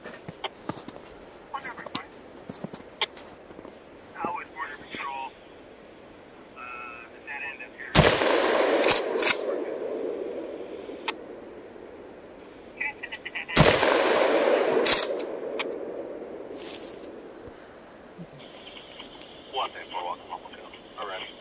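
Two loud, sharp blasts from a KS7 bullpup shotgun fired outdoors on a range, about six seconds apart, each ringing out briefly, with quiet talk and handling noise between the shots.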